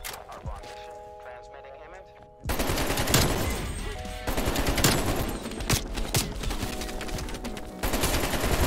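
Automatic rifle fire from an AK-47 in Call of Duty Cold War, loud dense bursts running continuously after a quieter opening stretch, with a voice talking over the shooting.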